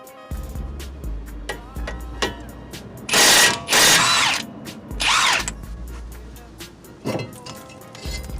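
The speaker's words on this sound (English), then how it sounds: "You'll need a 19mm socket to remove these two caliper bracket bolts." Hand tool work with a 19mm socket on the front caliper bracket bolts of a 2003-2008 Infiniti FX35, heard as sharp clicks and several loud bursts of ratcheting or spinning, close up with no talk.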